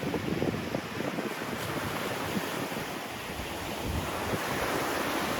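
Strong wind and breaking surf sound on a beach on the Bay of Hel north of Gdansk, a continuous roar of gusts and waves close to the microphone with no voices.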